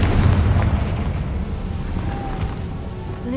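A Confringo fire spell bursting in Hogwarts Legacy, heard as a deep, rumbling explosive boom with a sustained low roar that slowly fades.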